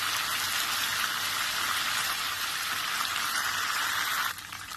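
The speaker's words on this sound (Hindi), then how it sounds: "जस्ट मैंने 1 मिनट के लिए इसे सौते किया है, पकाया है" Ginger and garlic fry in a pan as a karahi keema base begins, making a steady, close crackling sizzle like light rain that drops off abruptly just before the end.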